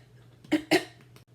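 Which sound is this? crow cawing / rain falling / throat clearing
throat clearing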